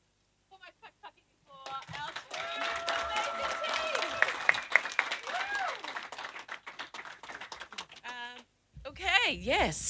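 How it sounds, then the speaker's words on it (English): After a school debate round, a crowd claps as the Kelston Girls College team leaves the stage: a burst of clapping mixed with whistles and voices, fading at the end before speech returns. "Another round of applause for Kelston Girls College as they leave the stage"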